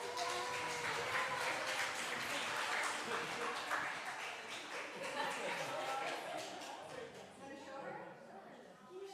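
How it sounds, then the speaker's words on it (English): Applause for award recipients at a fifth-anniversary celebration, a steady wash of clapping from a sizable crowd that holds strongly for several seconds before thinning slightly toward the end, with voices mixed in. "Can we get a round of applause?"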